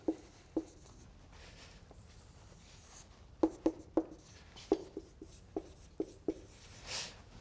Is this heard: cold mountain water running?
no